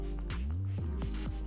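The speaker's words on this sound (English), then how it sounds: "now is a good time to go in with the spray" Makeup setting spray misted onto a face, a short airy hiss over soft background music with steady tones underneath.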